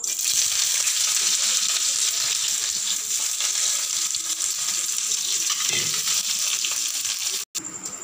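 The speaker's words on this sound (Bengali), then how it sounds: "এইবার আমি এর মধ্যে ওনিয়ন কুচিটা দিয়ে দেব।" Chopped onion goes into hot mustard oil with panch phoron, the five-spice mix, for a Bengali-style okra dish. A steady bright sizzle of frying fills the whole stretch, with a faint stir midway and a brief break near the end.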